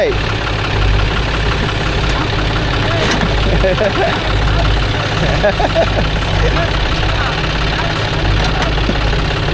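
A tractor or JCB 3DX backhoe engine runs steadily and loudly up close while the vehicle reverses during soil loading, with people talking over the engine noise.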